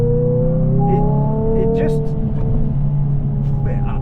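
A Hyundai i20N hot hatch engine hums and revs with artificially enhanced sound while driving, steady tonal drone shifting pitch with revs, loud and close, while someone talks over it.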